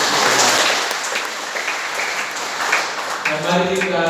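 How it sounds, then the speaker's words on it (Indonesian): Congregation applauding during a Sunday church service marking Indonesia's Independence Day, steady crowded clapping for a few seconds before a voice begins speaking over it at the end. "Tepuk tangan untuk"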